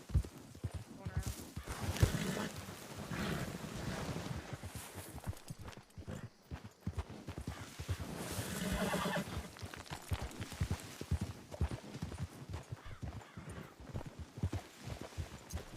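Horse hooves clip-clop across ground in a Wild West roleplay video game, joined by a couple of neighs and whinnies, with players talking over much of the sound.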